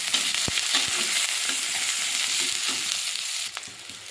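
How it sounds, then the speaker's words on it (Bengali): Chopped onions fry with panch phoron in a hot kadai, giving a constant loud sizzle with a few sharp spoon knocks and scrapes, the hiss easing slightly near the end. "পেঁয়াজটা ভাজা ভাজা করে নেব"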